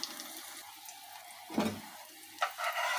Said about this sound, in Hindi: अब मेरा फ्राई एग बन चुका है